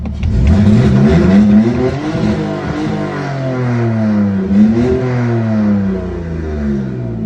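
A BMW E46 engine revs repeatedly, climbing and falling in pitch several times, loud and close with no voices.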